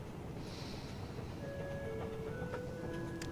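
A commuter train rumbles steadily inside a deep underground station in Stockholm, with faint tonal squeals and clicks rising over the low continuous noise.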